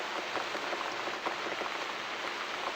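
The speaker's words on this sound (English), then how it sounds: "Looks like we got the rain back." Steady rain from The Cat Lady video game, a continuous soft hiss of drops pattering on a surface, even and moderately faint throughout with no voices.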